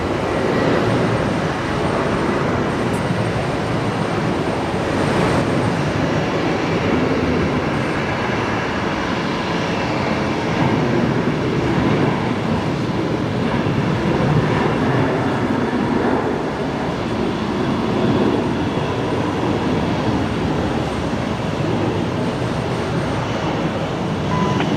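A Virgin Australia airliner starts its takeoff roll at Brisbane Airport, a continuous broadband jet roar holding steady and loud throughout with no voices.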